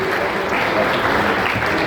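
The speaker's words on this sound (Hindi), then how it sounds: "सभी अतिथियों का ताली बजाकर कटक से स्वागत" Audience applause welcoming guests at a political gathering addressed by a Union minister: a dense, steady wash of many hands clapping at constant loudness for the full two seconds.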